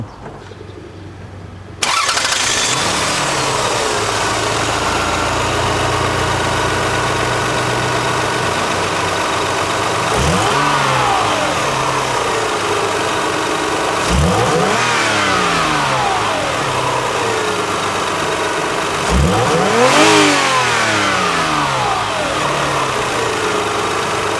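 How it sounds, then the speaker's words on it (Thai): A first-generation Toyota Harrier's V6 engine starts and idles steadily, with three strong revs rising and falling in pitch at intervals, loud and close, with no talking. "มาฟังเสียงเครื่องยนต์กัน"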